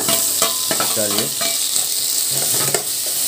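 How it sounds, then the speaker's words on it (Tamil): Tomatoes frying with softened onions in a pan for prawn upma, a steady close sizzle broken by scraping stirs of a spatula. "தக்காளி நல்லா ஒரு 2 நிமிஷம் ஃப்ரை ஆகட்டும்"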